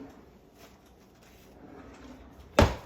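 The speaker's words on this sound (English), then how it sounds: "a straw out of our drawer." A kitchen drawer is pulled open to fetch a straw, making one loud, sharp clatter near the end after a stretch of quiet room noise.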